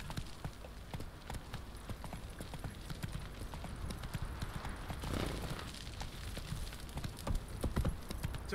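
Horse hooves in The Witcher 3 clip-clopping in a quick, steady rhythm, fairly quiet and continuous, over soft outdoor game ambience.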